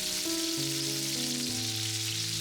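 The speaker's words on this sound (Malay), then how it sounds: "Seterusnya, goreng ikan bilis." Oil sizzles and crackles steadily as anchovies fry in a pan over low heat, a dense continuous hiss with soft background music tones.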